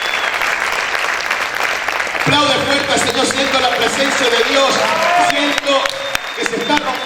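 Church congregation applauding loudly during a worship service, sustained dense clapping from a large crowd with voices and a preacher talking over it throughout.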